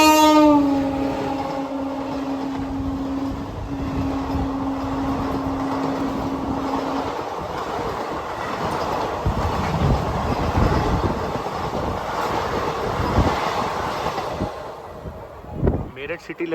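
Express train 22544 (Meerut City–Lucknow Rajya Rani Express) runs between Rampur and Moradabad; a long, steady horn blast sounds for several seconds over a loud, continuous rolling rumble that carries on to the end.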